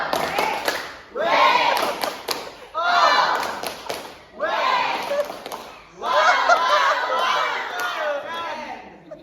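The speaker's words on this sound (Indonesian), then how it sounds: "tepuk wow lagi, tepuk wow lagi. Tepuk wow." A school class performs the rhythmic 'tepuk wow' clapping chant in four loud bursts of children's voices and claps, each separated by a brief pause, close and lively.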